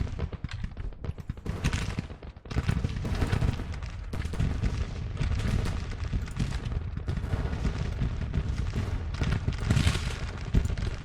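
Dense, continuous Civil War battle noise from a video game, with repeated booming cannon shots and crackling gunfire, loud and sustained throughout.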